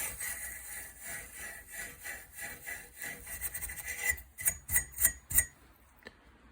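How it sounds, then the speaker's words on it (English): Wire wool or an abrasive strip is rubbed over the end of a copper pipe in quick back-and-forth scrubbing strokes. The strokes are close and fairly quiet, then a few sharper, louder scrapes come near the end. "Then you get either your wire wool or your abrasive strip and you give the end of"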